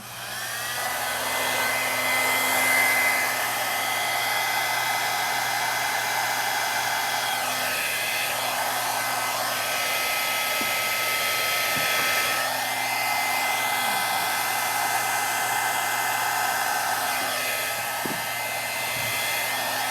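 A blow dryer whirs steadily and loudly, a constant airy roar with a steady motor hum, running without interruption and with no one speaking.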